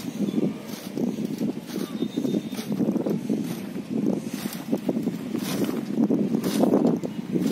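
Hand-pushed field weeder built from a bicycle wheel, front handlebar and carriage strips, rolled through farm soil; a steady, gritty rolling rumble with faint scraping, mixed with outdoor wind noise and no talking.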